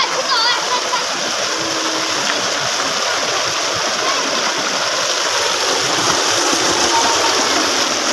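Strong running water pours and splashes continuously at close range, a loud broadband rush where people bathe on a hot day, with voices talking faintly under it.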